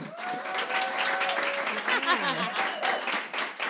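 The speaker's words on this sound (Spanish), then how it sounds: "Un aplauso para Poli desde Venezuela, por favor." An audience applauds comedian Poly Díaz from Venezuela at a stand-up comedy show, a broad wash of steady clapping with a voice speaking and laughing over it.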